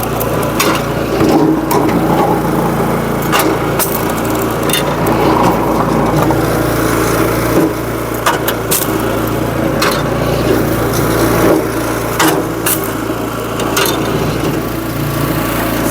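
A SuperSplit kinetic wood splitter runs loud and steady outdoors, its motor whirring continuously while firewood is split, with sharp cracks and knocks scattered throughout.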